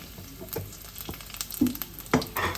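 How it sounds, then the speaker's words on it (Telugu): Garlic and tempering spices hit hot oil in a kadai for a no-sweet bitter gourd curry, giving bursts of crackling sizzle with a few louder spits and stirring scrapes, close and alone. "బాణీలో నూనె వేసుకుని, నూనె కాలిన తర్వాత ఎల్లుల్లిపాయి"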